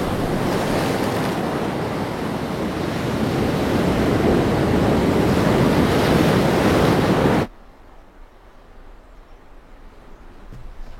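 Broadband ocean surf roars steadily and loud for about seven seconds, then cuts abruptly to a much quieter, hushed background of distant wind and water.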